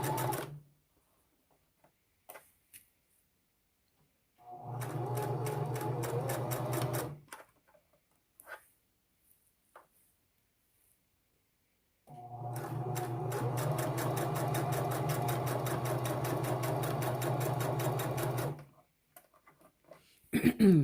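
A Singer sewing machine stitching lace runs in two bursts, a short one and then a longer one of about six seconds, each a close, even mechanical whir separated by quiet handling noises.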